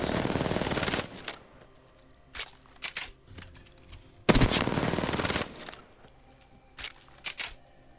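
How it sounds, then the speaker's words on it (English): Hip-fired automatic weapon bursts in the shooter game Apex Legends: a long opening volley, short scattered shots, then another sustained loud burst and a few final quick rounds, all close and sharp. "firing from the hip, not aiming down the sights"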